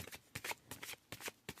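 Tarot cards shuffled by hand in quick bursts, five or six crisp riffling rustles separated by short pauses, close and clear with no voices.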